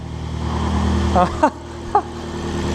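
An Abarth Punto Evo car engine runs with a steady low rumble, joined by a few brief higher squeaks or chirps over the idle.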